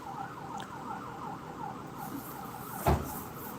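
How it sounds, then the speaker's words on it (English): A wailing emergency siren rises and falls steadily at a middle distance, heard from indoors behind a closed sliding door, with a brief louder bump near the end. "There's a siren going behind me, even though my slider is closed."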